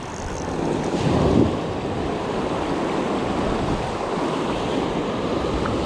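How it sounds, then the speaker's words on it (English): Ocean surf on a Southern California shore as the tide rolls in, a continuous broad roar of waves with wind buffeting, swelling briefly near the start and steady after. "Tide's rolling in here."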